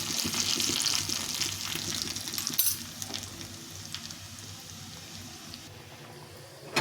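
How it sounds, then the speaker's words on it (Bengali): Vegetables fry in a pan with a little chili powder for khichuri, a steady close sizzle with faint stirring scrapes throughout and no voices. "কালারটা ভালো আসার জন্য একটু সামান্য একটু লঙ্কা গুঁড়ো দিয়ে এটাকে ভালো করে ভেজে নিতে হবে।"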